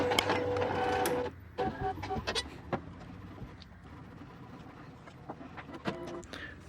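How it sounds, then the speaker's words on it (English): A DTF (direct-to-film) printer runs a nozzle check as a page feeds inside, giving a close motor whir broken by scattered mechanical clicks and clunks, fairly quiet and with no voices. "the page is going to go inside of the printer and it's going to do its nozzle"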